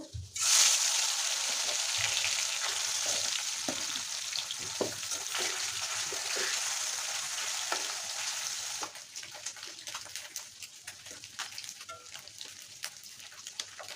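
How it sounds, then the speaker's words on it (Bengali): Eel fish frying in hot oil in a wok, a loud steady sizzle that starts abruptly as the fish go in, then settles into a quieter crackle with occasional stirring clinks. "এখন আমি কড়াইতে মাছগুলো দিয়ে দেব।"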